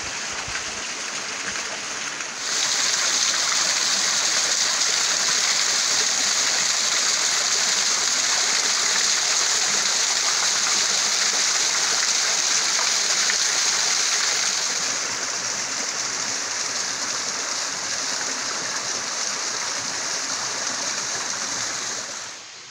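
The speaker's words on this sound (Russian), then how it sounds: "еще водопад здесь функционирует" A small mountain waterfall on a slope above Yalta, a steady rushing, splashing flow of water that swells louder after the first couple of seconds and holds close and continuous throughout, with no voices.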